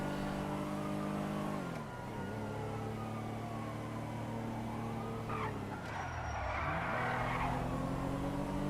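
A minivan's engine hums and revs during a video game car chase, with tires squealing in long skids, its pitch dipping and climbing as it slows and accelerates.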